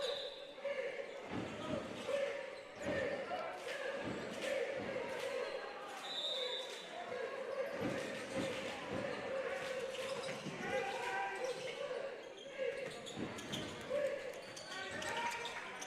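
Basketball dribbled on a court during a boys' high school game, repeated bounces with crowd noise in a gym, while a commentator talks over it.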